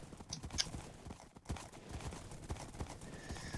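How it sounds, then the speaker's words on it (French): Galloping hoofbeats from a horse race in the Minecraft Hypixel arcade party games, a rapid repeated clip-clop of several horses with a brief whinny, steady and fairly close, no talk over it. "Bon, ça c'est la course de chevaux."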